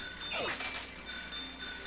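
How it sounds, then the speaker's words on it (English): A bicycle bell rings in Pokémon Shield, a bright metallic ding-ding repeating a few times in quick succession over a continuous game backdrop. "There we go again, ringing the bell."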